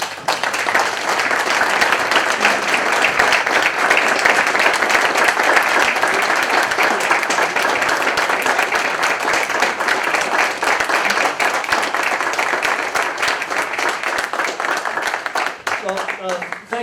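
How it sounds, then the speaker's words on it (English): Dense, sustained applause from a council meeting audience fills the room at a steady, loud level for the whole stretch, thinning slightly near the end. "And a round of applause."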